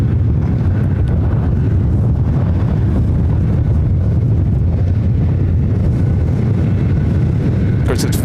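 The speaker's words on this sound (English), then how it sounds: "it's windy here today as well, so you're probably hearing a little bit of the wind noise" Constant low rumbling wind noise battering a microphone at Ontario, California airport, loud and unbroken for the whole stretch, with a faint higher rustle near the end.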